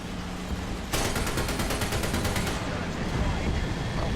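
An aircraft machine gun in War Thunder fires its last rounds as one rapid, loud burst of evenly spaced shots lasting under two seconds, over constant engine and battle noise.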